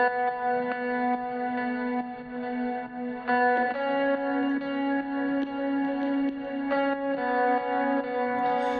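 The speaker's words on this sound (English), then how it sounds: "There's this one electric guitar that comes in later," Sustained electric guitar notes run through ping pong delay and reverb, forming an ethereal, shimmering layer. Chords change every second or so, with repeating echoes and a washed-out tail and no voices.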